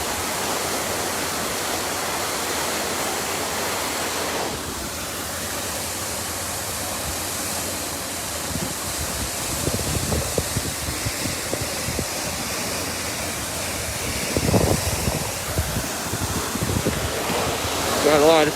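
Water gushes steadily from a fire hydrant struck by a big rig truck in Castro Valley, a constant roaring rush like a waterfall with gusty noise, and low thumps and rumbles grow louder near the end.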